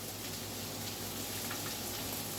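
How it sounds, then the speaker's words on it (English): A continuous crackling sizzle of steak frying in a hot stovetop pan, a steady sputtering hiss with no voices. "you can hear that sizzle"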